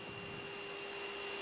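Airliner jet engines roar as a steady, even whine during takeoff in Microsoft Flight Simulator 2020, a continuous drone with no other sounds.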